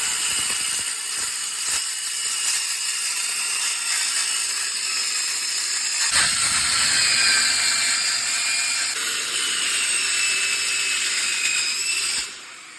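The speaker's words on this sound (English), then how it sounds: "let me show you how good this saw performs with an old blade with multiple busted off teeth. How well it'll cut this piece of stainless steel." An Evolution metal cutting saw fitted with an old blade missing several teeth cuts through a piece of stainless steel, giving a loud, sustained high-pitched metallic whine and grind that holds steady, surges midway, then cuts off near the end.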